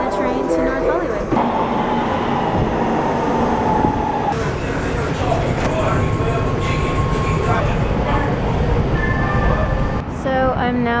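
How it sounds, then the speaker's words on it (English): A commuter train runs toward North Hollywood, giving a continuous rumbling rail roar with squeals and clatter. Voices and station noise sit underneath, and a sharp change near the end suggests doors or braking. "I'm at the train station and I'm about to hop on the train to North Hollywood."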